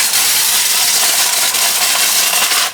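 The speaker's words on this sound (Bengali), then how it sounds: "প্রথমে একটু পাস করতে হবে। পালস করে নেবেন এই যেভাবে," A blender run in pulse mode whirs at full loudness in a steady, dense roar for a few seconds, then cuts off abruptly at the end.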